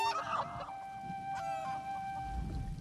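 Chickens from the video game Elder Scrolls Online cluck in short, close bursts over a faint background tone, with no talking.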